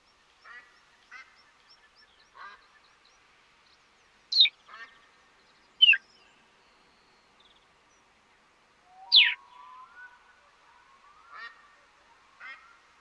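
Ducks in the hunting game The Hunter: Call of the Wild give scattered quacks and honks. The calls are sharp, isolated and fairly clear, spaced over a quiet outdoor scene.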